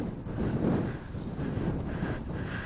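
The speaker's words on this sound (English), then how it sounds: "I mean, it's pretty windy." Strong wind buffets the microphone while blowing across a field of tall grass, a continuous low rumbling roar with gusty swells.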